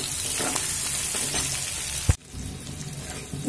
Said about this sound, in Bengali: দেখুন, 1 মিনিট আমি ফোড়ন ভেজে নিয়েছি